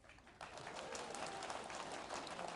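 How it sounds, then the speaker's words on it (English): Applause from the audience at a Conservative Party leadership hustings, a faint, fairly distant burst of clapping that starts abruptly and continues evenly for a couple of seconds. "Plenty of applause there."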